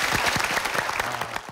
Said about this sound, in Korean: 네, 박수 한번 드리죠.